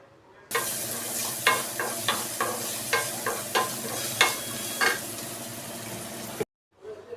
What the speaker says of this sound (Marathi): कांदा फ्राय होताना जर त्याच्यामध्ये मीठ टाकलं ना तर कांदा लवकर फ्राय होतो